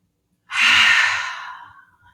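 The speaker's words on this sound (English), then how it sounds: "taking a nice inhale through the nose and a nice big exhale out through the mouth" A single deep breath in a yoga class: a long, airy exhale out through the mouth swells quickly, then fades over about a second and a half. It sounds close and is heard alone.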